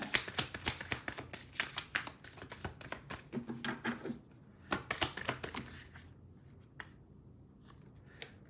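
A tarot deck is shuffled and a card is drawn, giving rapid papery riffling and flicking up close for several seconds before it settles into a few soft, sparse card taps.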